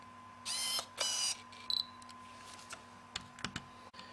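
A Tokina 10-17mm fisheye lens whirs as its autofocus motor drives, with two loud buzzing bursts followed by softer clicks and short mechanical ticks, close up.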